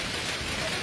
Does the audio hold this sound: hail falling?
yes